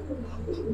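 Low, soft cooing from old-breed female pigeons in a loft, a brief continuous murmur close by with no voices.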